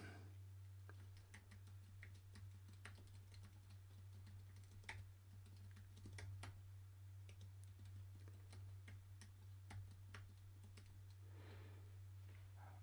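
Someone types on a computer keyboard at a desk, a quiet, continuous patter of key clicks with irregular bursts and pauses over a low steady electrical hum, and no talking.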